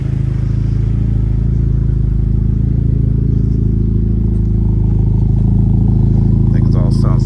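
A Honda Civic Type R FL5 fitted with an AWE track exhaust gives a steady, loud low engine drone throughout, with a deep rumble holding constant and a brief higher rasp near the end.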